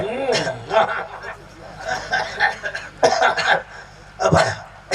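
A few short coughs and throat-clearing bursts break up, mixed with brief laughter-like breaths, close to the listener.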